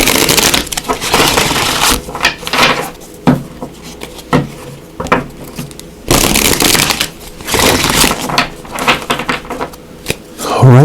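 Repeated bursts of riffling and flicking tarot cards in quick runs, close and fairly loud, with brief pauses between shuffles.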